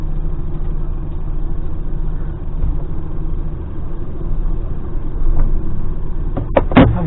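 A DAF XF lorry engine idles at an airfield, a steady low diesel rumble filling the cab, with a couple of brief clicks near the end.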